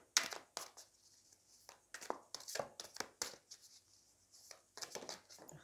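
Oversized cards are shuffled by hand in short, irregular bursts of flapping, riffling and sliding, close by and fairly quiet, with gaps of near silence between the handling sounds.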